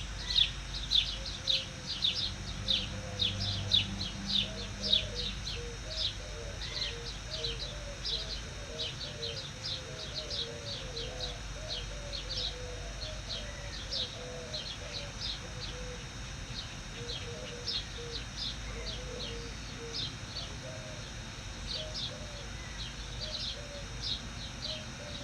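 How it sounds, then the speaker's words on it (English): Repeated short, high chirping calls from a small group of quail in Arizona at sunrise, steady and moderately distant, over a low outdoor rumble for a long stretch. "A little beeping sound was quail."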